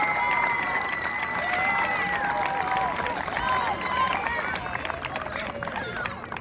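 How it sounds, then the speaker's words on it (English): A stadium crowd at a halftime ceremony honoring Tony Romo applauds his teammates, a broad roar of clapping and cheering with shrill whistles and raised voices carrying over it throughout. "round of applause to everybody that played right here"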